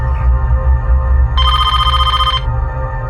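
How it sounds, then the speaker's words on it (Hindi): A telephone bell rings once in a single bright trilling burst of about a second, loud and close, over a low background rumble with no talk. "जरा देखना किसका फोन है"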